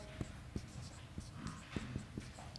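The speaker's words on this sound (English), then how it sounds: "I can write that down." Pen on paper writing down a website address, faint scratchy strokes with soft taps in an uneven rhythm, quiet and close, with a little background murmur.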